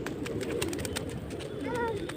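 Pigeons coo close by, soft low throaty calls repeating under a faint background hum, with a few brief higher chirps toward the end.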